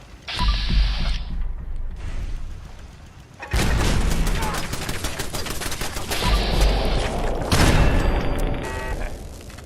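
A landmine detonates in Fallout 4 VR with a heavy boom, followed by loud, dense crackling blasts and rumble that swell again midway and run on to the end, with no clear talk over them.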